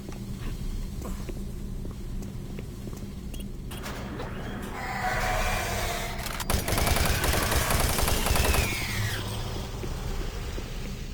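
Machine gun fire in Doom 3 as a sustained, dense rattle of rapid shots over a steady in-game din, peaking in loudness through the middle before easing off slightly.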